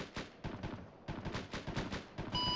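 Artillery firing in Arma 3, a string of heavy booming rounds fired in quick succession, loud and close, each thud trailing off briefly before the next, with no talk over it.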